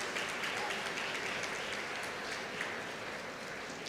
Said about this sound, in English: A big round of applause to the undergraduate students